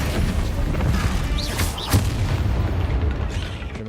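Booming blasts from the Confringo fire spell in the video game Hogwarts Legacy, a couple of sharp bursts with whooshing tails over dense background game sound, no voices.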